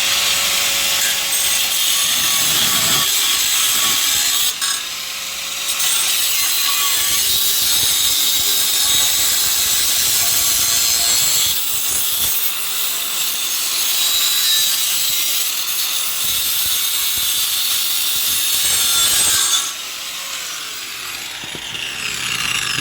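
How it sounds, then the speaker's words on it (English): A reciprocating saw cuts through the steel exhaust pipe of a 1998 C5 Corvette, a loud, steady rasping buzz that runs almost continuously with short pauses near five and twenty seconds. "Maybe a controlled effort with a sawzall is a good option."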